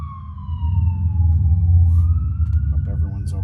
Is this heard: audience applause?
no